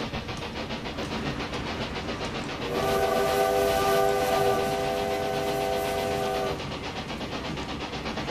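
In the Railway Empire 2 game, a train rumbles steadily along the track, and a sustained multi-tone horn blares for several seconds partway through before the rolling noise carries on alone.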